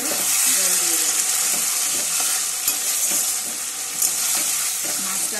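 Tora fish stirred in a pan with potatoes and green chillies after a spiced fry, a loud continuous sizzle with repeated spatula scrapes and a few clacks against the pan, no talking.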